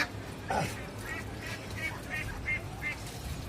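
Khaki Campbell ducks quack in short, evenly spaced calls while bathing in water on a rooftop, fairly faint against a soft background murmur.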